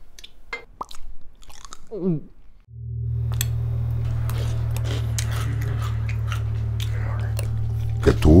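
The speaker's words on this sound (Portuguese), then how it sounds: "mastigar várias vezes, 20 vezes por colherada" Close, wet chewing of food, many bites per spoonful, a steady crunchy mastication after a few short mouth noises and a brief tonal squeak.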